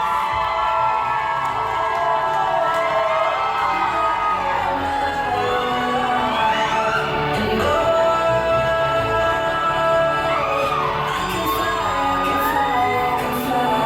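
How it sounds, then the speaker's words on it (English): A crowd at a male strip show cheers, whoops and shouts continuously under loud music, a dense, steady roar of voices that swells slightly midway. "ask them to make noise for her. Give her a cheer, you know, clap for her"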